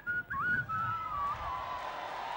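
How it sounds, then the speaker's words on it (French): A person whistles a short wavering tune, a clear single melodic line that slides up and down, fairly close and alone. "Ah non, je sifflote."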